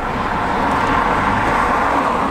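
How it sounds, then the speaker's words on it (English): A 2018 Chevrolet Cruze accelerates on a busy road, heard from inside as a steady engine drone with road and wind noise, continuous and fairly loud. "Let's go ahead and test out how the ride is and a little bit of gas pedal."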